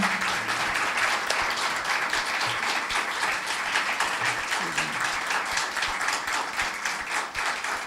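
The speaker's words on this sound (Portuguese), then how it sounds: "eu queria agradecer demais e pedir palmas para os dois" Sustained, dense applause from an audience at a literary evening on the creative process and writing, honoring two speakers. The clapping stays loud and steady throughout, with faint voices murmuring underneath.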